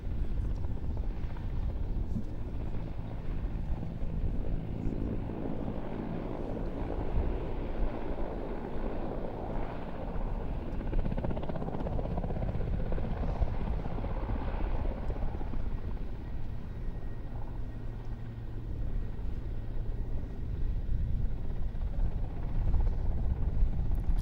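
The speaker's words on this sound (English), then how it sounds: "Now that's how to arrive into an airshow static display in a helicopter." Helicopter arriving at an airshow static display in Leszno, a continuous rumbling rotor drone with wind buffeting, steady and fairly close for the whole stretch, with no clear speech.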